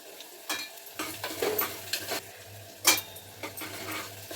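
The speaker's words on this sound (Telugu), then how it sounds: "ఇప్పుడైతే పుదీనా వేస్తున్నాను" Mint leaves drop into a pot of biryani cooking in a home kitchen, giving soft sizzling crackles and scattered stirring clicks over a low hum, close and fairly quiet.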